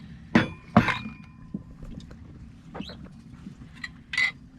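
Two bright glass clinks close together near the start of a toast aboard a sailing yacht, followed by a few lighter taps and chimes over a low, steady hum.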